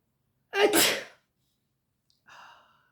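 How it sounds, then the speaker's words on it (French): A single sharp sneeze bursts out close by, followed after a brief pause by a short, softer breathy sound. "Oh, je vais éternuer."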